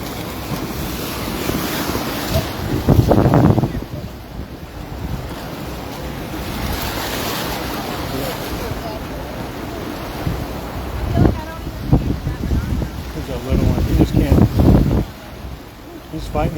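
Ocean surf at Ala Moana Beach in Hawaii, with waves surging and crashing in repeated loud bursts over steady gusting wind and microphone buffeting, and voices speaking intermittently.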